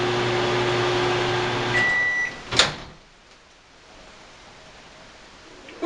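A microwave oven heating beans hums steadily, then its beep sounds and the run stops with a clunk of the door, leaving quiet room tone and a faint click at the end.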